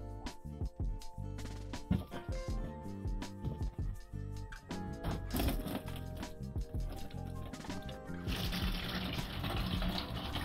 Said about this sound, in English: As we are going to replace the water pump, we need to drain some of the coolant.